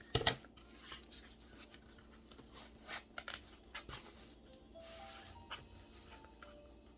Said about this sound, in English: give it a little snip